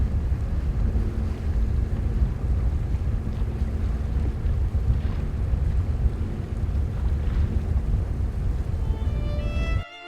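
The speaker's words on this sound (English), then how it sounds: "Oh, beautiful waves in front of an iceberg." Ocean waves wash steadily in front of an iceberg in Antarctica, a continuous rumbling surge mixed with wind buffeting the microphone and a boat engine's drone, with no pause across the stretch.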